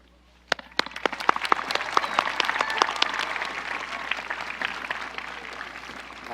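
A graduation audience at a high school ceremony breaks into applause. It starts with a few sharp isolated claps and quickly builds to steady, fairly distant clapping from a large crowd.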